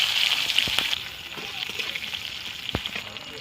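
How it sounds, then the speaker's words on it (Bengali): Green chilies fry with mustard seeds in hot mustard oil, a steady, close sizzle broken by a few sharp pops, loudest at first and then settling to a softer hiss. "সর্ষের কাঁচা লঙ্কা দিয়ে দিলাম"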